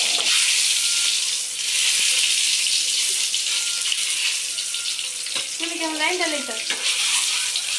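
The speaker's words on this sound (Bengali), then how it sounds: "যে এখন ডিমটাকে ভাজা হবে" An egg frying in a pan, a steady broad sizzle running throughout at close range, with a brief rising and falling tonal squeal near the end.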